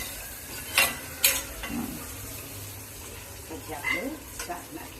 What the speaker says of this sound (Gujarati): મરચું નાખી અને મરચું બરાબર મિક્સ કરીશ અંદર.